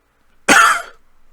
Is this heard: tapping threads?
no